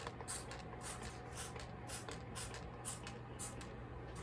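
Short bursts of aerosol spray hiss around the seals of a McCulloch SP105 chainsaw in a steady rhythm, about eight quick puffs, close and fairly quiet.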